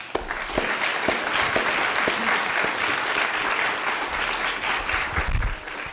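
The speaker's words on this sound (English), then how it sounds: "Let's give another round of applause for the whole panel." A conference audience gives a panel a round of applause, continuous dense clapping at steady volume across the whole stretch, with a few louder individual claps standing out.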